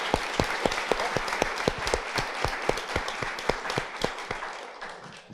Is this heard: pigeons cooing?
no